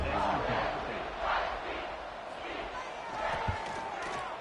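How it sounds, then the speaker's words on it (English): A stadium crowd in the College Football 26 video game roars and buzzes continuously after a touchdown, swelling in waves while voices carry through the broad wash of cheering. "this crowd is buzzing after that last score"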